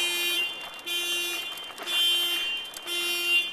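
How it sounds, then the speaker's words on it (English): A car alarm blares steadily nearby, a looping high-pitched electronic tone pulsing in regular cycles, loud and continuous. "It's just a car alarm, Megan."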